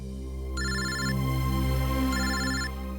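A phone ringtone plays in two short electronic bursts of bright, repeating tones, separated by a pause, over a steady low hum with no talk.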